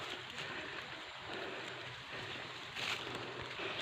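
A waterfall roars in a continuous broadband wash while light rain falls, steady and fairly close, with no voices.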